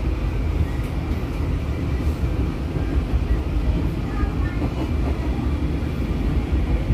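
Train rolling on rails past Kalimenur station at reduced speed over a former derailment site, a steady, loud low rumble with clattering wheel noise continuing throughout.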